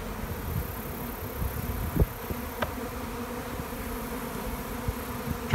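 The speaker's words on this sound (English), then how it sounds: "we have the 5 o'clock rush in the bee yard" Honey bees swarming around hives in a bee yard during a busy late-afternoon flight, a steady dense buzzing drone close by, with individual bees zipping past the microphone and faint rustling.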